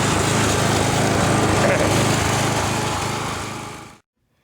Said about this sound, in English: this is a review of the new riding mower we just bought. It's a Weed Eater 1